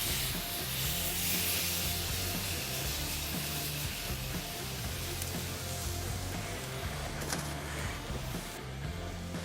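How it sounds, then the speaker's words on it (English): Brined pork chops sear on hot oiled grill grates, giving a steady broad sizzle at moderate distance with a low hum running beneath it. "we're gonna sear these first and then finish them indirect so we get them up to temp"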